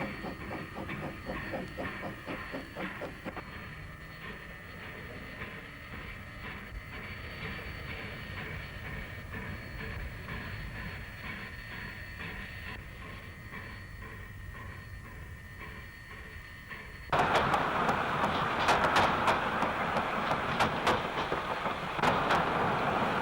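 Locomotive running around its train in the small, restricted Ranui yard on a New Zealand coal line, a steady rumbling idle with clanks and hiss, then a louder, closer burst of engine noise and rattling near the end.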